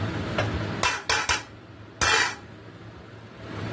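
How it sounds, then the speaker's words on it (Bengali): A metal lid set down on a pot of biryani at home, a few sharp clanks and scrapes of metal on metal close by, then a single louder clatter, with no talking. "হাঁড়ির ঢাকাটা আমি এভাবে দিয়ে দিলাম"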